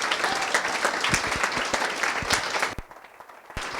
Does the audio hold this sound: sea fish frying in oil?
no